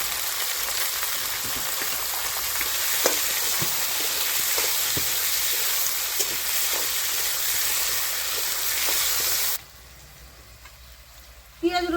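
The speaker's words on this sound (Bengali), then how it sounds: "পেঁয়াজ রসুন লাল লাল করে ভেজে নিয়েছি" Onion and garlic fry in hot oil, giving a continuous crackling sizzle with scattered pops and light stirring scrapes, heard up close for most of the stretch before dropping to a much quieter hiss near the end; no talk.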